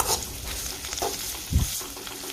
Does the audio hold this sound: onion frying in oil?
yes